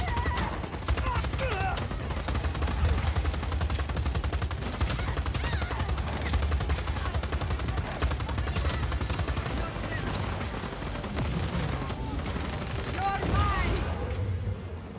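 Rapid gunfire and explosions from the video game Just Cause 4 during an airport takeover mission, dense overlapping bursts of automatic fire crackling continuously at a loud level throughout.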